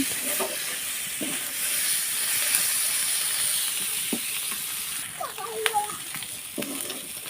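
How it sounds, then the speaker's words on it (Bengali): A piece of beef fries in a pan for a village-style beef bharta, a steady close sizzle and hiss with a few utensil taps and clatters near the end. "এটা আমি এখন লাল লাল করে ভেজে নেব"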